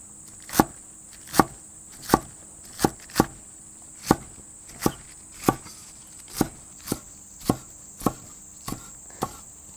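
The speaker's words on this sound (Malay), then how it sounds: "mula-mula sekali Rozet nak potong kucai dulu" A knife chops garlic chives on a cutting board in a home kitchen, about fifteen sharp, evenly spaced knocks sounding close and alone over a faint steady hiss.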